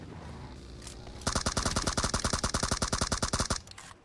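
Sustained automatic gunfire rattles in the mobile battle-royale game PUBG Mobile. A rapid, evenly spaced burst of shots runs loud and close for about two seconds, then stops abruptly.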